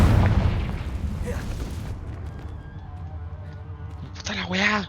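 Confringo fire spell from Hogwarts Legacy, a loud, booming blast at the start that rumbles and fades over a couple of seconds, with a voice speaking near the end.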